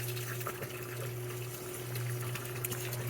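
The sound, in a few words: water rising in flood and drain hydroponics system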